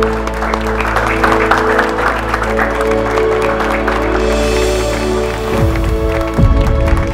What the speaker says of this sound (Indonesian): Beri tepuk tangan untuk mereka berdua.